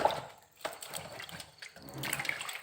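Water poured into a container while preparing sticky rice, with a few short splashy bursts and a steadier trickle near the end, moderately close and fairly quiet.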